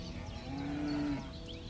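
A single cow in Nepal gives one sustained, fairly loud moo with a steady tone, set against a low rumble of outdoor background noise.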